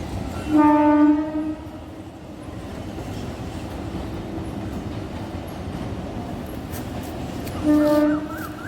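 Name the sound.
train passing by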